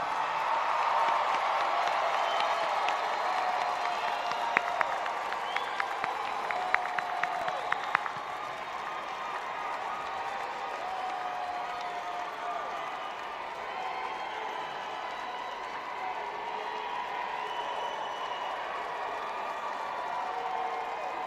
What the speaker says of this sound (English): let's salute them with your applause.